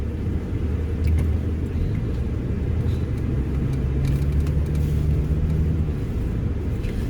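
Cars in a busy store parking lot near a Tractor Supply and Ollie's, a loud steady rumble of engines and road noise close to the microphone, running continuously with no one speaking.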